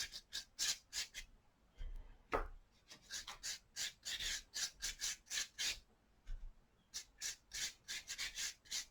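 Dry watercolour brush scratching across paper, with a quick series of soft rhythmic rasping strokes, close and quiet.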